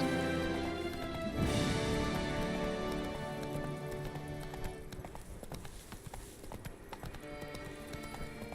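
Roach, the horse in the video game The Witcher 3, gallops in steady, rapid hoofbeats, near and fairly loud, after a brief whinny near the start.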